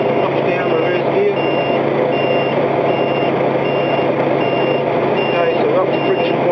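Steady high-pitched reversing beeps from a heavy prime mover truck backing under a trailer with air bag suspension, repeating evenly over a constant idling diesel engine hum.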